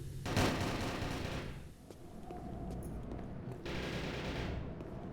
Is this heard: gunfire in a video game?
yes